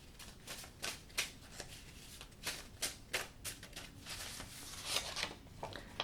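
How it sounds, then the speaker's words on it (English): Tarot cards being shuffled and pulled by hand, a quiet run of soft riffling flicks and crisp slaps coming in irregular bursts, close up with no talking. "I want to pull a few more cards for you."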